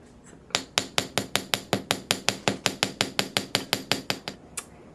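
A Rounded Narrow hammer strikes flattened silver links about twenty times in an even, quick rhythm, each tap bright and ringing, close up and alone.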